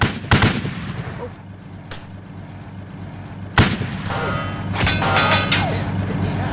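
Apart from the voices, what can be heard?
gunfire shooting at a tank in video game Easy Red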